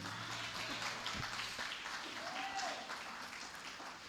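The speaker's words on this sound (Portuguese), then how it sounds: "Quem pode aplaudir a Deus?" A congregation applauding during a home worship service, a dense, sustained wash of clapping from many people that holds steady, then eases off slightly toward the end.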